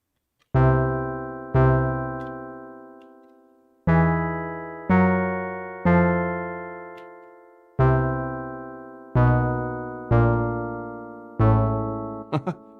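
Bright Elektron Syntakt synthesizer chord stabs hit one after another in an uneven dance rhythm, each with a sharp attack and a decaying tail, loud and alone.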